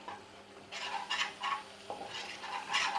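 Maida flour being stirred and roasted in melted butter for white sauce pasta, with a spoon scraping repeatedly against the pan in bursts and a faint sizzle underneath, close and moderately loud, no voices.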